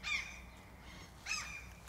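Birds call outdoors: two short, harsh, crow-like caws about a second apart, fairly faint, with quiet background between them and no talking.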